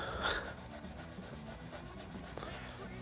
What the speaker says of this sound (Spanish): verme cepillar y pulir un diapasón por 5 horas de directo